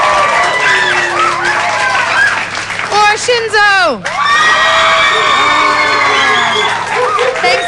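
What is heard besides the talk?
audience applause and cheering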